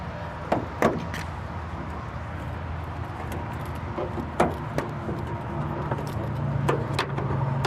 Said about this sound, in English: I'll let you take a nice little peek before I pop the hood